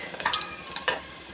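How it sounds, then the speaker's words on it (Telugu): Mustard seeds and garlic cloves frying in hot oil during tempering, giving a faint, close crackle with a few sharp pops and sizzles over a short moment. "ఆయిల్ హీట్ అయ్యాక కొద్దిగా ఆవాలు వేసుకోవాలండి పోపుకి. అలాగే వెల్లుల్లి రెబ్బలు కూడా వేసుకోవాలి."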